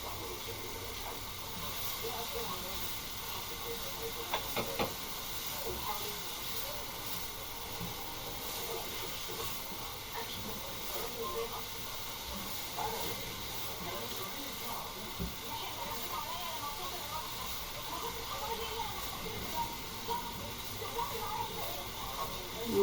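Squid sizzles as it goes into softened onions in a pot for seafood soup, a steady loud hiss running throughout with small crackles and pops.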